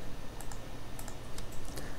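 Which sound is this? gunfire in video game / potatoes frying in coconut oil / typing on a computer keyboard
typing on a computer keyboard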